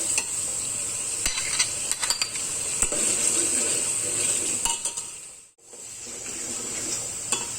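Ginger-garlic paste and onions fry in a pot, giving a constant close sizzle with repeated stirring scrapes and utensil clicks and a brief dropout near the end.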